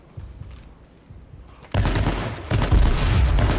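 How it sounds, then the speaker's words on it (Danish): Gunfire in the battle royale game H1Z1 King of the Kill, heard as a loud burst of shots after a quieter stretch with faint pops, continuing as dense repeated blasts up close. "Jeg skyder 3 gange igennem ham!"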